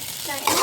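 Noodles being stirred with masala in a pan, a short close scraping and sizzling stir that swells louder in the second half.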